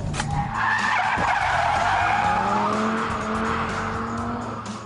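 Car skidding through a handbrake turn on a test track, loud sustained tire squeal over engine roar for several seconds, close by.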